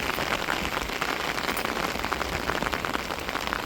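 Heavy rain lashes down during a windy storm in a village, a loud, continuous hiss with fine pattering drops throughout and no speech.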